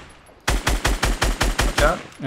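Rapid automatic gunfire in Fortnite Battle Royale: about eight loud, evenly spaced shots in a quick burst after a brief quiet start, close and punchy.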